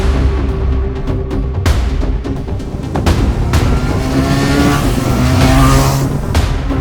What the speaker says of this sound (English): There's a really nice throaty rumble below 6000 RPM